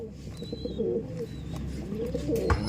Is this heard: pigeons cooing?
yes